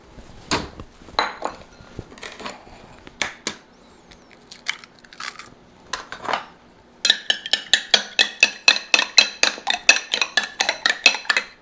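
An egg is whisked in a small bowl for an apple pudding: scattered clinks and scrapes at first, then a steady, fast run of sharp, close utensil strikes against the bowl.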